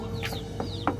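Three short Pelung chicken calls close by, quick clucking squawks over a constant low background hum.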